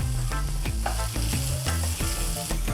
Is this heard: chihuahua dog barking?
no